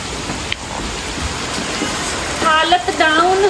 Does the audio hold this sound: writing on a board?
no